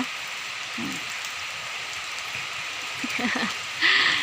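Heavy rain falling outdoors, a dense continuous hiss of drops hitting surfaces, steady throughout and growing slightly louder near the end, with no talking.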